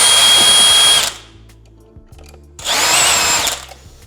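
A power drill driving screws out of a Sony ULT Tower10 speaker during teardown, two loud whining bursts about a second each separated by quiet handling clicks.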